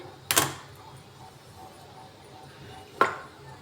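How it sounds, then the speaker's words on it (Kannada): A gas stove being lit for cooking sambar, with two sharp clicks of the igniter about three seconds apart over a quiet kitchen background. "ಗ್ಯಾಸ್ ಅಂಟಿಸ್ತಾ ಇದ್ದೀನಿ."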